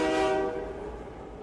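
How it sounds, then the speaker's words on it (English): A train pulls away from a station and heads into a tunnel, with a loud, sustained horn-like tone fading after the first half second into a steady low rumble of rolling rail cars. "The train pulled away from the station and raced into the tunnel."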